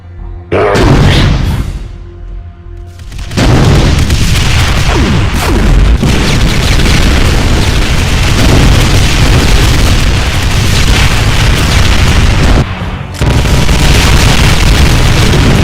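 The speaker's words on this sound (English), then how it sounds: "A 360 spread of ground-based trails of explosions." Loud, continuous booming explosions from a Doom mod's Mancubus variant, rolling one after another in ground-based trails, a dense roaring blast that barely lets up, with a brief dip partway through.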